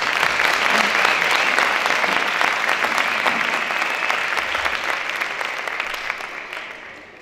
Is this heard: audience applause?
yes